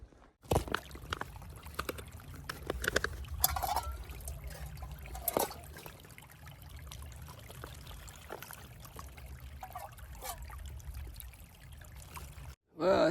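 A mountain stream flows at a trail water source on the Pacific Crest Trail near Mount Baden-Powell, with steady, continuous close-up rushing water running alone and unbroken throughout.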